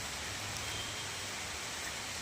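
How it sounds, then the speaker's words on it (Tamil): Rain falls in a steady, even hiss of dense patter that holds constant and fairly soft throughout, with no voices. "மழை வர்றது தெரியுதா?"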